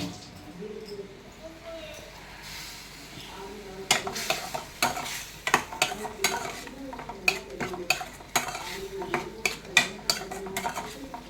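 A spoon stirs vegetables and curry leaves in a pan for veg kurma, producing repeated scrapes and light clinks over a soft background sizzle, with a voice speaking at times.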